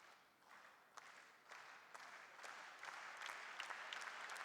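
Spectators at the ITTF World Tour Polish Open 2015 table tennis final clap steadily in a large hall, a soft, distant patter of applause with a few sharper individual claps, gradually swelling.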